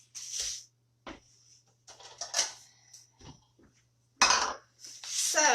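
Dishes and cutlery clatter in a home kitchen while strawberries are rinsed, bursts of clinking and knocking separated by short pauses, close by with a faint steady hum underneath.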